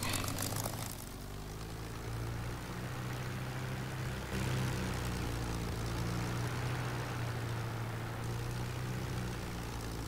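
P-51D propeller fighter taxiing slowly across a field in DCS World, a steady low engine drone with droning propeller hum running continuously and fairly loud throughout, no voices over it.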